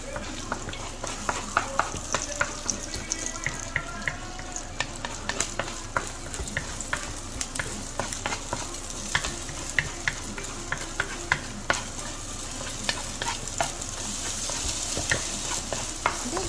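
Eggs scrambling in a pan for fluffy eggs to go with cauliflower rice, a continuous hissing sizzle with frequent quick spatula taps and scrapes throughout, close and fairly loud, with no one talking.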